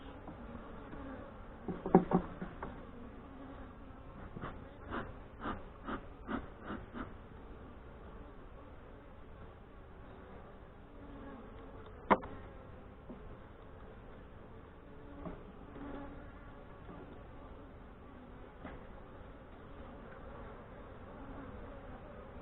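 Saskatraz honey bees during a hive inspection in northwest Wisconsin, a quiet background hum broken by a cluster of close buzzing passes early on and a few scattered later, with no one speaking.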